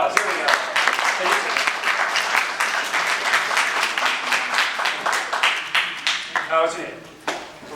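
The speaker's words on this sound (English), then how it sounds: "Let's give him a round of applause." Audience applause for a volunteer at a live talk, many hands clapping in a steady rhythmic beat that slows into separate individual claps near the end, with voices faintly under it.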